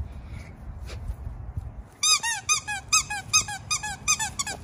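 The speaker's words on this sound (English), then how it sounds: "And it has a squeaky." Squeaky dog toy squeaked in a rapid burst of about a dozen sharp, close squeaks after a quiet stretch with a faint earlier squeak.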